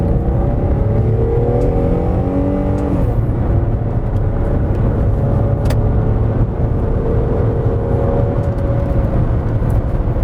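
Citroen Xantia V6 engine heard from inside the car, a loud, steady roar that climbs in pitch while accelerating, briefly dips as a gear changes, then builds again continuously, with no talking.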